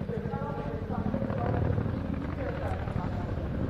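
A Chinook helicopter at an air festival flares from high speed into a hover, its low rotor throb and engine roar steady throughout, with a commentator talking over it.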